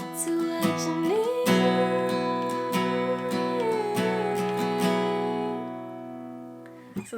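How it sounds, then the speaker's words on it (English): Steady basic strumming on an acoustic guitar for a song, a run of even down-and-up strokes over ringing chords that fade out near the end, with no voice. "So that's the basic strumming."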